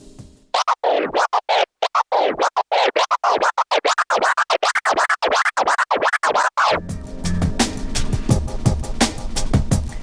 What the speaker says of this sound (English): the Twiddle fader technique, which can be used to create the 2-click flare